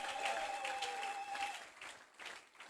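Applause from an audience at a Bible conference, a dense clapping texture that swells and fades over a few seconds, moderately distant, with a sustained tone running beneath the first half.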